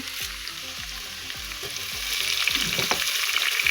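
Ginger, garlic and curry leaves frying in hot oil for beetroot pickle, a loud, close, continuous crackling sizzle with rhythmic stirring knocks at first and a fuller spitting hiss toward the end, with no voices.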